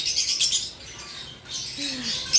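A green Parblue parrotlet gives faint, scattered chirps and tweets, with light rustling around it.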